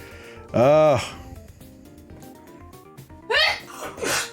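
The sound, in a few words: sneeze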